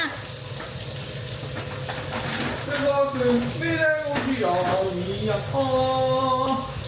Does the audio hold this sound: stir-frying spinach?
yes